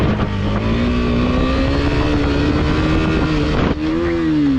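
A KTM motorcycle engine revs loudly and continuously as it is pushed up for a wheelie, its pitch climbing steadily, then briefly dropping before rising again, with no talk over it.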